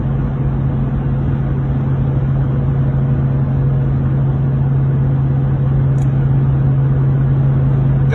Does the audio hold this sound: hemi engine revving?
yes